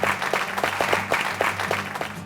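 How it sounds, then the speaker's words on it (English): Small group giving a round of applause at an outdoor gathering, scattered individual claps in a loose rhythm over a low steady hum, fairly close and moderately loud. "So first I'd like to give them a round of applause."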